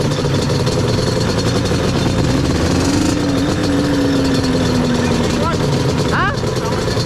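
A Yamaha Banshee engine idles loudly and steadily up close as its RPMs settle down, with a voice talking over it.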